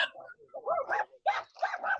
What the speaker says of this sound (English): There's a dog fight going on.